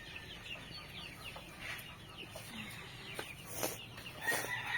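Chickens on a small backyard farm, clucking and calling softly in scattered bursts at a moderate distance, over a steady low outdoor background.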